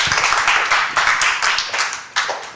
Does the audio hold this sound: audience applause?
yes